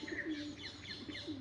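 Pigeons perched at a deep well on a farm orchard give soft, low, rolling coos that repeat several times, quiet and close, with a few faint chirps behind.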